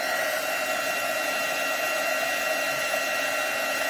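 A heat tool blows steadily to melt embossing powder on cardstock, a constant close hiss and whine with no breaks and no talking.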